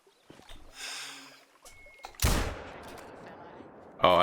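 A hunting rifle fires at a feral goat in theHunter: Call of the Wild video game, one sharp loud report with a rolling echo tail, preceded by quiet rustling and a brief soft tone.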